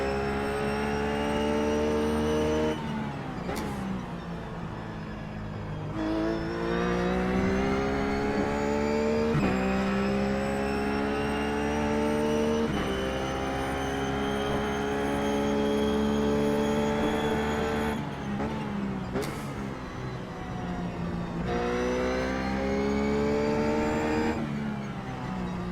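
A Ruf GT3 race car lapping Sebring in iRacing, its engine droning loud and continuous from the cockpit, pitch climbing through gears with brief drops at each shift and lift.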